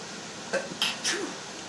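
A quiet, muffled sneeze in a couple of short bursts, heard over a steady background hiss in an otherwise still room.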